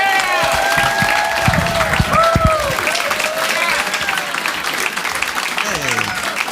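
Crowd applause and some cheering welcome a stand-up comedian onto the stage, a sustained clapping wash heard under someone speaking and whoops rising over the noise.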